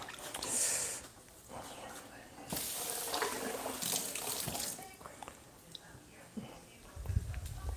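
Tap water runs in bursts as a kitchen knife is rinsed, splashing with on-and-off flow and small clinks, close by.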